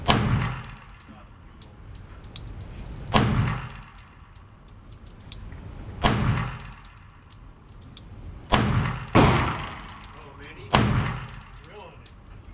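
Shots from a Bul Armory 1911 Commander pistol at an indoor range, about seven sharp loud reports at irregular intervals with ringing decay, between bursts of low talk.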